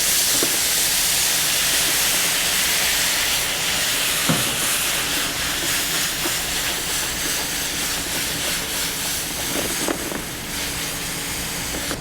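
Cherry tomato pieces sautéing as a pan is deglazed for shrimp scampi, giving a loud, continuous broadband hiss of steam and sizzle with a few soft clinks, no talking.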